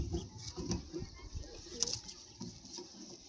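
Pigeons being shown for sale, including a male and a female, coo softly and flap their wings in brief bursts close by, with no talking over them.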